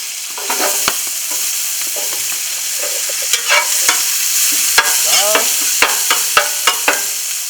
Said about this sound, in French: on fait frire un petit peu le thym